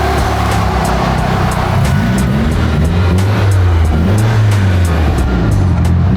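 Engine of a long-stored JDM barn find car idling loudly just after a cold start, a steady low rumble with wavering revs, close and continuous with no talk.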